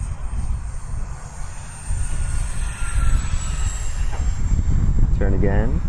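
Twin 40mm electric ducted fans of an E-flite SR-71 Blackbird RC jet roar steadily at full throttle in the open air, a loud continuous whine with a brief rise near the end as someone speaks over it.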